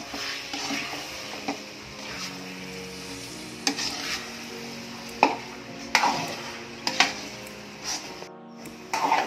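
Sticky bico rice cake is stirred in a wok, a steady scraping and sloshing punctuated by sharp clacks of the spatula against the metal, with a soft sizzle underneath throughout.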